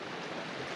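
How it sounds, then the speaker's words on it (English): A small creek flowing through the woods, a brief, steady broadband rush of running water at moderate level. "I want to show you the little creek here"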